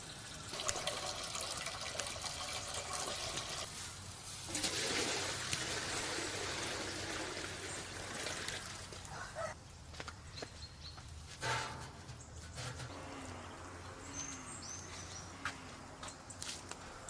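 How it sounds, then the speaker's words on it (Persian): Hot water poured over grape pulp in a vessel during dushab syrup making, a faint continuous trickle and splash of liquid with occasional louder gushes and small drips. "با پاشیدن آب گرم بر روی مواد داخل لار، شیره باقی مانده در مواد نیز به پایین لار سرازیر می شود"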